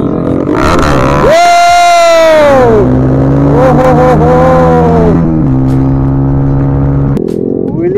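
A KTM Duke 250 motorcycle engine revs hard during a wheelie, loud and close, its pitch swooping up and falling back in repeated surges, with crowd noise around it.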